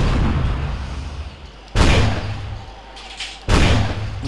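A weapon in an Unreal Development Kit first-person shooter fires grenades, two sharp, loud booming shots about two seconds apart, each followed by a brief rumbling decay over a low background rumble.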